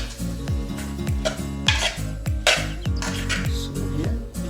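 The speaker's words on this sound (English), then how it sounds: "So a little bit of chili powder, okay, so you start mixing again." Soursop curry being stirred after chili powder goes in, with a spoon scraping and clinking against the pot in a repeated rhythm, close and fairly loud, over a low background hum.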